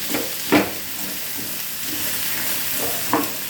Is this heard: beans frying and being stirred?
yes